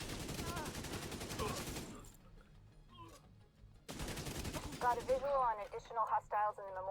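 Gunfire in The Division 2 video game: dense bursts of rapid automatic shots, loud and close, broken by a brief lull and followed by ringing, warbling effect sounds.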